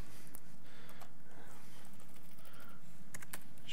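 Typing on a computer keyboard while writing test scripts, a quiet, steady run of close key clicks with no talking.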